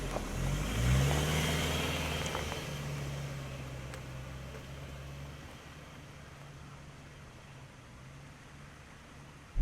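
A Subaru XV Crosstrek drives over a rough, bumpy road; a steady low engine and road drone heard from inside the car swells briefly, then settles into a constant rumble with faint rattles.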